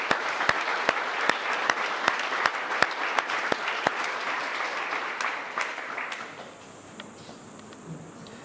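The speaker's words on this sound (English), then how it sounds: "So a big round of applause for Mrs." An audience at an annual award presentation day gives a full round of applause, dense crowd clapping with sharp individual claps standing out, holding steady for about six seconds before thinning and fading into quiet room tone.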